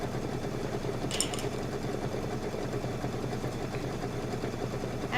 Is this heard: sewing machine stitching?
yes